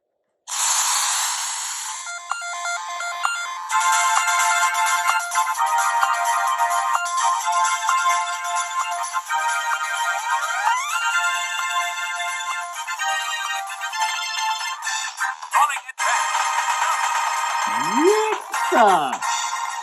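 Bright, busy electronic game music and chiptune effects from Sonic Advance 2 on a handheld console play steadily and loudly for most of the stretch, with a brief rising sweep near the end.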